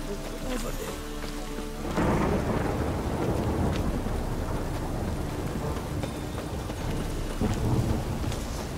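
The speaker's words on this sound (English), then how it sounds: "It's raining again." Rain pours steadily in The Witcher video game while a deep thunderclap rolls in after a short tonal passage, the storm continuing loud and close with a later rumble.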